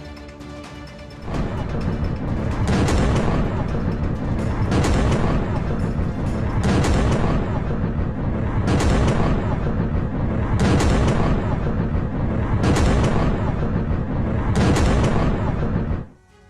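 Artillery fire and glide bombs on the Ukrainian frontline near Sumi: heavy, loud blasts land roughly every two seconds over a constant dense rumble, with no voices.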